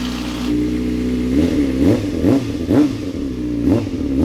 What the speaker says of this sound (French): Après avoir monté le nouveau radiateur, j'ai pu redémarrer la moto